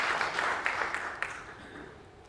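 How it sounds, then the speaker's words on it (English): Applause from a conference audience at a BMR international gathering, a dense wash of clapping that fades out over a couple of seconds. "A big round of applause for the leaders of UAE"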